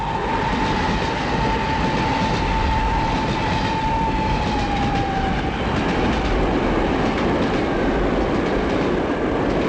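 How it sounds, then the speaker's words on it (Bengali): A train rolling past as an effect in a horror story, a loud continuous rumble and rattle of wheels on track with a long wavering squeal, steady throughout with no voices. "ভালো করে দেখার আগে আমাকে নিয়ে ট্রেন চলে গেল অনেকটা দূরে।"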